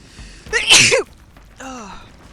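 A single sharp sneeze inside a video game with a wooded island setting, loud and close, followed by a short breathy, moaning vocal sound.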